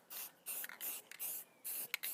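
Spray paint hisses onto an HPI Baja 5B RC car chassis in several short, close bursts of about a third of a second each, separated by brief pauses, with no talking.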